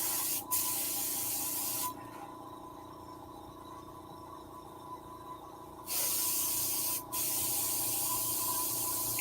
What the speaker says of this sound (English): That's why I like my air compressor, because I can come back on top of these